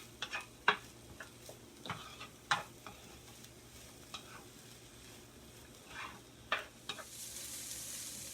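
Egg roll filling with green onions is stir-fried in a pan, giving a quiet sizzle punctuated by sharp clicks and scrapes of stirring.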